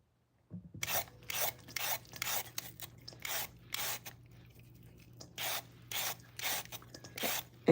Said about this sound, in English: this come in very handy. Your vegetable peeler.